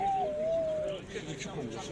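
A pet pigeon or dove at a bird market coos once, a clear gliding call near the start, with people talking nearby.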